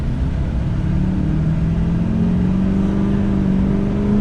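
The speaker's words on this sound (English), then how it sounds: "I'm gonna give it a little bit of gas here because there's no one in front of me now" A 2005 Chevrolet Silverado Duramax LT pickup accelerates steadily, its engine note rising smoothly under a constant road rumble with no talking.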